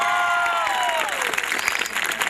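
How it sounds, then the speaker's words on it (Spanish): An audience applauds at a live show in Coronel Oviedo, a brief burst of crowd clapping and cheering as a voice fades out at the start. "fuerte el aplauso para Calle Jabacú"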